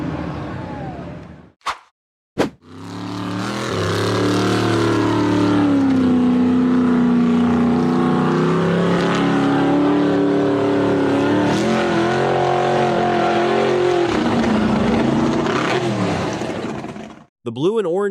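Blue and orange off-road buggy engine roaring hard as it climbs a near-vertical sand dune, a loud sustained revving drone with shifting pitch for about fifteen seconds after two brief bangs, then cutting off abruptly.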